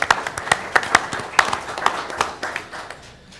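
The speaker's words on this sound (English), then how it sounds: "let's give an applause to these new members to our nation." Sparse applause at a tribal council monthly meeting welcoming new members, a small group of individual hand claps heard as distinct sharp slaps in an uneven rhythm, thinning and fading toward the end.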